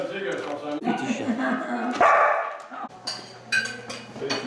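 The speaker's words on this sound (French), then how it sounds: "Petit chien." A small dog barks and yips in short bursts at close range, with people chatting in French over and between the barks.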